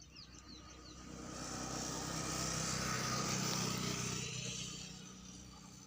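A Kirloskar engine runs with a rough, uneven chugging that swells louder through the middle and fades slightly at the end.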